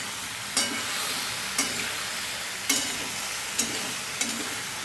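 Raw banana curry with spices being stirred in a pan: a steady low sizzle runs throughout, broken by about five sharp scraping strokes of the spoon at irregular intervals.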